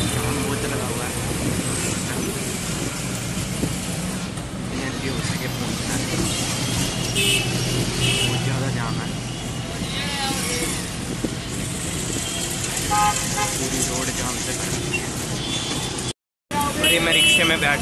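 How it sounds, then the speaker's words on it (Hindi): A rickshaw rides through road traffic with a steady, loud engine and road rumble throughout, passing vehicles and honks in the mix, while someone talks over the noise. "मैं रिक्शे में बैठ चुका हूँ, अभी यहाँ से जा रहा हूँ।"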